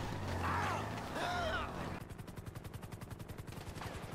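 Helicopters firing on a player in GTA V Online, with a rapid, evenly spaced burst of machine-gun shots arriving after some earlier mechanical sound, moderately loud and unbroken to the end.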